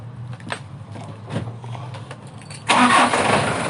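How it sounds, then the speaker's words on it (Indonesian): A Super Speed 2016 truck engine cranks with a few short rough turns, then catches and roars into a loud steady idle close by. "Oke, kita tes hidup mesinnya ya."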